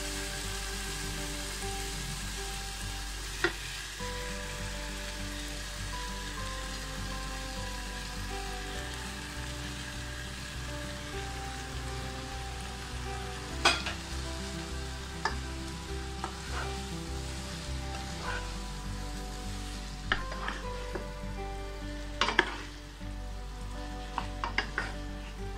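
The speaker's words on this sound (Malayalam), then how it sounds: "ഇനി നമുക്കിതിലേക്ക് ആ ന്യൂഡിൽസ് ഇട്ട് കൊടുക്കാം." Spaghetti noodles frying in hot masala over a high flame, a steady close sizzle with occasional sharp clicks and scrapes as they are stirred in the pan.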